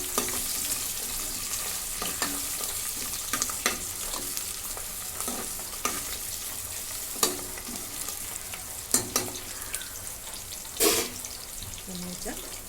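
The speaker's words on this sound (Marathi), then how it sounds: "चांगलं म्हणजे परतून घेऊ त्याला" Food sautéing in a pan for a mutton dish, with a constant frying sizzle and intermittent scraping stirs and light clatters, close by, with no one speaking.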